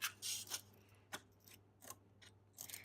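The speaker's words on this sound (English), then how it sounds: "And then I want to cut off this portion here." Scissors cutting through a paper folder, a series of crisp close snips and rasping cuts in an irregular rhythm of about six strokes, with quiet pauses between them and no talking.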